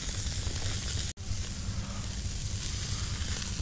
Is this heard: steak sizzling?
yes